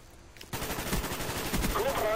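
Rapid gunfire from a Call of Duty Black Ops match starts abruptly after a brief quiet lead-in, then keeps up as a dense, loud, continuous burst of shots with in-game sound effects layered on top.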